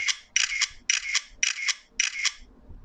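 Five crisp camera shutter clicks from a KineMaster sound effect, evenly spaced about half a second apart and heard alone against silence.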